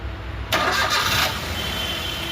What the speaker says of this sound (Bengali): দেখুন গাড়ি স্টার্ট করছি